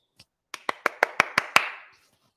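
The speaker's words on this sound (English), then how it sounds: "Let me clap for that." One person claps seven times in a quick, even rhythm, close and alone, after a faint tap.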